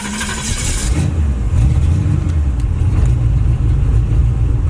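A box Chevy engine with a fuel pump problem idles with a steady, deep, loud rumble after a short burst of higher revving at the start, with no talk over it.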